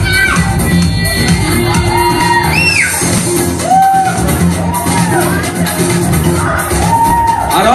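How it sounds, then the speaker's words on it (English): Children and adults at a kids' games session after a magic show cheer, whoop and yell together, a loud, continuous burst of crowd noise with high shouts rising above the roar. "Cheer for them."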